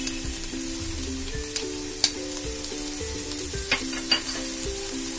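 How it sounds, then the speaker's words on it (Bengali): Masala with tomato pieces, salt and Kashmiri red chili powder frying steadily in a pan for a pomfret fish curry, with a constant close sizzle and occasional scraping stir strokes throughout. "এবার সবকিছু আমি ভালো করে মিশিয়ে নিচ্ছি"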